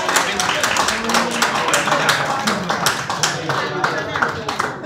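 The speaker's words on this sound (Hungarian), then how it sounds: "nagy tapsot kérnék szépen" A wedding party audience claps for a couple during a quiz game at a reception, many hands beating in a fast irregular patter, close and fairly loud, with voices mixed in.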